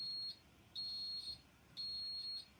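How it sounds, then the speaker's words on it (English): A simple switch-circuit electric buzzer sounds three times in steady bursts of high, piercing tone, each lasting about half a second with short gaps between, clear and close over faint background hiss. "we've got the buzzer working."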